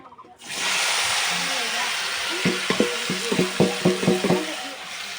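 Okra frying in hot oil with salt, turmeric and chili: a steady loud sizzle and hiss fills the pan, joined midway by a run of rhythmic stirring scrapes and taps.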